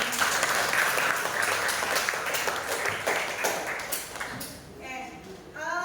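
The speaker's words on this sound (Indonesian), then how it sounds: "Silakan tepuk tangan dong." Classroom applause from students in an Indonesian school lesson, a steady burst of clapping for about five seconds that thins out toward the end, with scattered taps and some background chatter.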